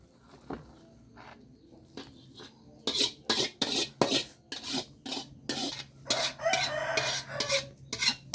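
A spatula scrapes and clanks rhythmically against a pan while sautéed vegetables are stirred, quiet at first, then a quick run of loud metallic strokes.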